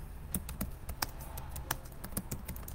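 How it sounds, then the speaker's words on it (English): Keys on a computer keyboard clatter in an irregular burst of sharp taps, close and fairly clear, with no talking over them. "helps if I know what I'm typing."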